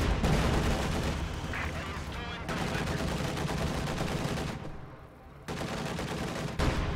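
An IS-2 tank gun firing in a war video game, heard as dense, continuous battle noise with repeated shots and rumble, with someone talking over it and a brief dip in the noise near the end.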